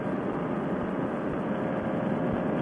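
A Dudek paramotor trike engine in flight, a steady, unbroken droning roar with wind rush, heard alone and close for a few seconds.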